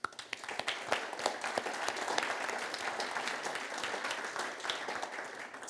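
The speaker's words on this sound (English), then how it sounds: "So a round of applause, please." Sustained applause from an audience at a talk in Motueka, dense overlapping claps filling the venue at a steady level throughout, with no talking.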